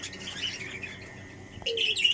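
Pet parrots and cockatiels chirp indoors in a steady run of bright, high tweets, with a louder burst of sharper calls near the end.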